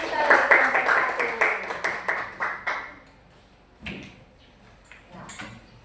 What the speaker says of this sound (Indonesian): Kita beri tepuk tangan dulu untuk teman-teman kita dari kelompok 1.